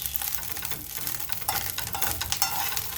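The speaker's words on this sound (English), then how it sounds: "If you like, you can still keep frying them" Small omena fish fry dry in a pan, giving a constant crackling sizzle broken by scraping stir strokes and rustling as the fish are turned.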